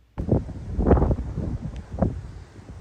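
Strong wind buffets the microphone on a mountain trail at dawn on the Pacific Crest Trail near San Jacinto, loud low rumbling gusts that surge and fade over a few seconds.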